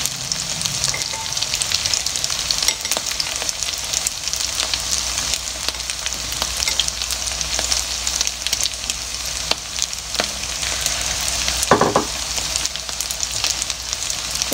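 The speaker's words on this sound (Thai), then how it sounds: "เอาเข่าปั่นมาจุ่มไข่แล้วก็มาทอด" Balls of sticky rice dipped in beaten egg frying in a pan make a loud, continuous close sizzle and crackle for the whole stretch, with an occasional knock of a utensil and no talking.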